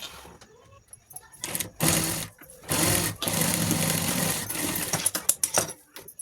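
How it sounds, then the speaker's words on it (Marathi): A sewing machine stitches fabric pocket pieces in several loud, close bursts of rapid whirring, separated by short pauses and handling clicks. "मग दुसरा भाग पण लावून त्यावर वरून शिलाई मारून घ्यायची."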